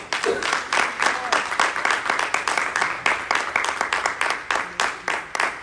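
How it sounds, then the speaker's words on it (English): Congregation clapping together at a church service, a steady run of loud, dense applause that keeps a quick rhythm without a break. "So give the Lord a big clap offering for saving you tonight."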